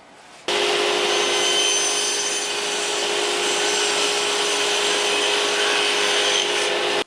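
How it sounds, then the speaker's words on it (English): A table saw with a regular blade cuts a dado in pine for a country wardrobe, starting abruptly after a brief quiet and holding as one loud, steady, sustained whine. "So I'll use the regular saw blade and just make 2 passes."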